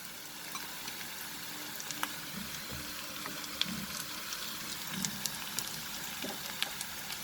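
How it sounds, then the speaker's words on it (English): Marinated prawns frying with onions in a karai give a soft, continuous sizzle with scattered crackles and pops throughout, fairly quiet with no voice over it. "This is the time I will add the marinated prawns."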